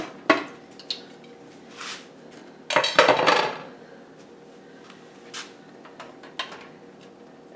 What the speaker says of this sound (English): I'm taking my jigglers off and my lids